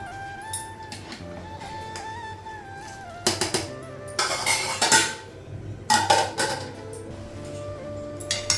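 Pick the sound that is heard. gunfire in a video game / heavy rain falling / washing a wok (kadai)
washing a wok (kadai)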